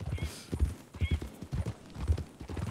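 Horse hooves clip-clop in a Western-themed video game, with a whinny rising above the steady trotting rhythm at close range and loud level.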